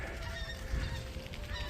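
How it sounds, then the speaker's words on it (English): Migrating geese fly out and honk faintly at a distance under a low outdoor rumble. The calls are soft, overlapping and continuous, with no talk. "the geese are going out"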